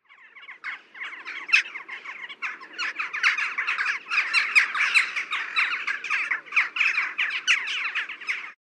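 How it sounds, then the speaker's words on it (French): A flock of jackdaws calls continuously, a dense chatter of short, sharp squawking notes overlapping throughout, with no talking. "Ensuite, nous avons le chouca des tours."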